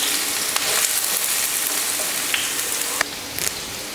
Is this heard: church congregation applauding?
no